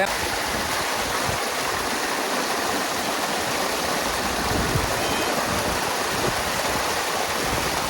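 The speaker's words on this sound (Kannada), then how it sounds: "ಕೋಡಿ ಸಿದ್ದೇಶ್ವರ ಸ್ವಾಮಿ ಹತ್ರ ಇರೋವಂತಹ ನದಿ ನೀರು ಹರ್ಕೊಂಡು ಹೋಗ್ತಾ ಇದೆ" Flowing river water runs beside the Sri Kodi Siddeshwara temple near a lake, a steady broadband rush like a stream or small fall that stays close and constant throughout, with no voices.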